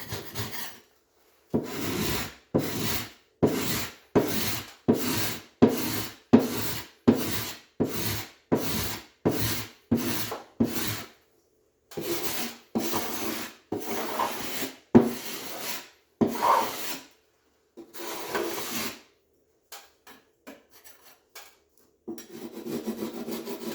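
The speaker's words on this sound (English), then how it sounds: "Just running a little spatula over the edges, any little bumps, just scrapes them off." Hard plaster being scraped off a wall with a small spatula during a front door replacement: a series of short, rough, rhythmic scraping strokes, close and crisp, with brief pauses between them and a longer irregular stretch at the end.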